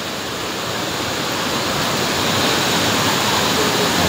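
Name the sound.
Mantayupan Falls waterfall rushing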